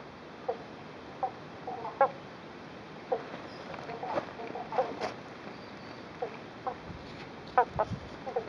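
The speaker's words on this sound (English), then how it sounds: "I'm not sure if I'm invading their privacy or not, but the frogs are mating" Frogs croaking while mating in the Australian bush after rain, short clucking calls repeating irregularly at moderate distance over a steady background hiss.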